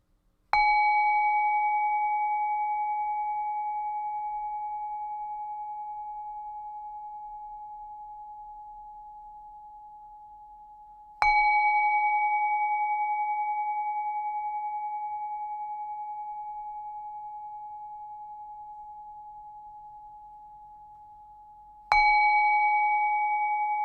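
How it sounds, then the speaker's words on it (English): Meditation bell struck three times, evenly spaced about eleven seconds apart, each strike a clear ringing tone that resonates and slowly fades, with near silence around it. "I'm going to ring the bell again just to follow the sound of the bell."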